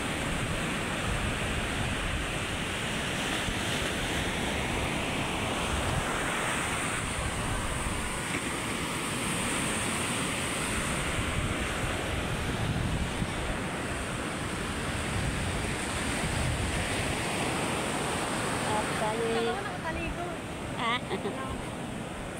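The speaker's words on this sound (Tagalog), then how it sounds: "Lalaki na naman ng alon." Large sea waves break continuously on a beach shore, a loud, dense roar of surf with wind buffeting the microphone throughout, no voices heard.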